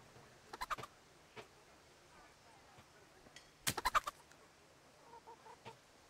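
A bird in the medieval game Kingdom Come: Deliverance gives a few short, loud clucking bursts in two clusters against quiet ambient background, with a faint trailing call near the end.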